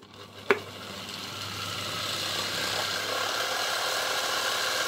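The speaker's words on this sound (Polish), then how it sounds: "I silnik nawet działa, chociaż słychać łożyska" An old East German Suhl electric motor, type 1004.2/5 paired with a 1970 Zelmer 01, powered from a 24-volt transformer, starts with a click and settles into a steady hum with a faint bearing rattle, close and continuous.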